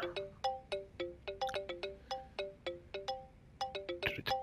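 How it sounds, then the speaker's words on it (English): A phone ringtone in the video game Judgment plays as a quick, repeating pattern of bright electronic two-note beeps, steady and fairly clear, with no talking. "Fucking phone."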